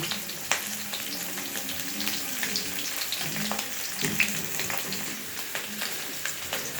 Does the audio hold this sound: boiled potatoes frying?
yes